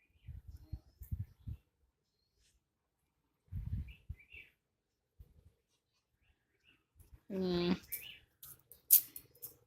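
A pet parrot lets out a harsh, harmonic-rich call near the end, following quiet stretches broken by soft low thumps and faint rustling.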